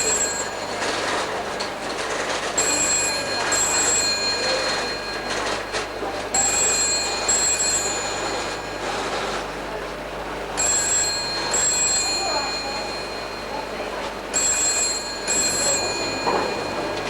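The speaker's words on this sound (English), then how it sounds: "telephone." A telephone rings in a bank office, its bell sounding in repeated bursts roughly every four seconds, clear and fairly close.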